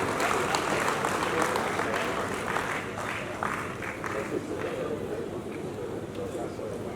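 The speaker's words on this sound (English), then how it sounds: "A round of applause for him," Audience applause at the 2022 Annual National Management Conference greets a speaker, a dense, loud wash of clapping that carries on steadily and then eases slightly.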